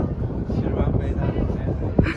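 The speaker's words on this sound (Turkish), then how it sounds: "Ay rüzgardan konuşamıyorum." Low, buffeting wind rumble batters the microphone continuously outdoors in Baku, Azerbaijan, with a brief knock or thump near the end.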